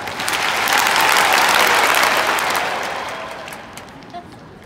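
A large live-event crowd bursts into loud clapping at a company gathering, a dense roar of hands that swells, peaks and gradually tapers off, with no distinct count audible and a few stray claps at the tail.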